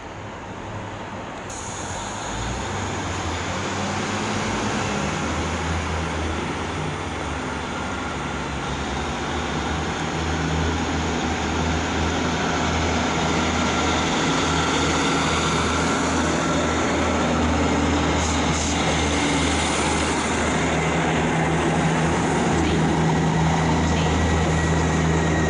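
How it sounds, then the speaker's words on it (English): A diesel multiple-unit train, an East Midlands Class 156 unit 156406 with a Class 158 at the rear, at Manchester Piccadilly station, its engines giving a loud, steady drone that holds for the whole stretch with no voices. "that's 156406, leading an East Midlands train service to Nottingham and Norwich"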